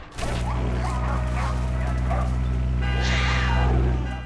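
Small dogs yipping and barking in Far Cry 6, a steady run of short yaps over a constant game soundscape with a low hum, growing busier near the end.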